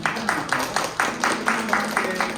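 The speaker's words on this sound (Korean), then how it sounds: "우리 한번 일어나시면 큰 박수로 우리 한번 함께" A congregation at a Korean church service in Philadelphia claps in rhythm to welcome a first-time visitor, with regular, evenly spaced beats over faint background murmur.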